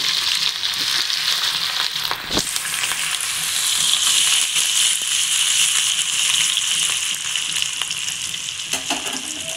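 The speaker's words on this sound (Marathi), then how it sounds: "आता हे तेल तापलं थोडं. तर लसूण टाकते. थोडासा लसूण भाजला ही अद्रक टाकते त्याच्यात." Garlic and then ginger sizzle steadily in hot oil for Veg Manchurian, a loud, continuous frying hiss with a few brief stirring clatters and no voices.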